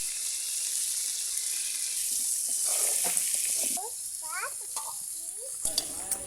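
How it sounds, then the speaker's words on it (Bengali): Spices with turmeric and chili being fried for chicken curry, a steady bright sizzle close up, with someone talking over it before the sizzle drops and quiets. "হলুদ মরিচ দিয়ে ভালো মতো মশলাটাকে কষিয়ে নেব আমি"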